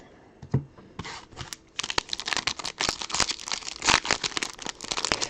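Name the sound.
tearing open a trading card pack wrapper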